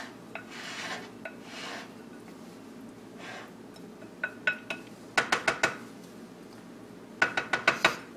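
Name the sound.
stirring black bean quinoa salad in a pot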